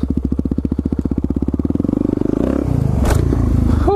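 Suzuki DRZ supermoto motorcycle engine pulsing steadily at idle-to-low revs, close and loud, then rising into a rougher revving roar with a brief clatter as the rider sets off.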